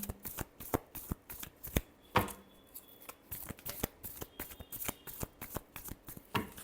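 Tarot cards being shuffled by hand close up, a rapid run of crisp riffling snaps and taps repeating steadily with no voices.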